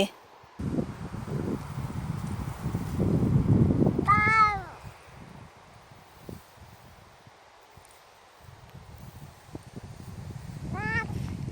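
A cat meows loudly twice, several seconds apart, in a backyard vegetable garden with wind and rustling around it, and someone speaks between the calls.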